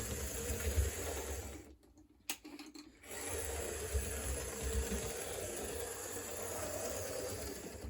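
An HO scale F unit model locomotive runs steadily with a soft mechanical whir and faint clicking, dropping out briefly before the motor hum resumes and continues evenly.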